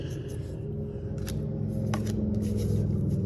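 Pokémon Fusion Strike trading cards being flipped through quickly by hand, a continuous close riffling and sliding of card stock over a low background rumble.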